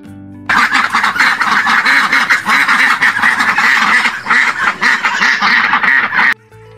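Duck quacking in a rapid, steady series of loud, close calls that run almost without pause for several seconds, with no talk over them.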